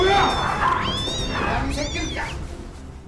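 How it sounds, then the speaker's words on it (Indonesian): A cat in a zombie film yowls in drawn-out, wavering cries, loud and close, several rising and falling wails over a scuffling background, with a voice talking alongside. "Kucing barusan berhasil mencakar Wang Yi"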